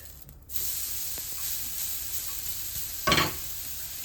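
A sweet potato wrap fries in a pan with a continuous close sizzle that starts abruptly, and one sharper hissing burst comes partway through as it is turned. No one speaks.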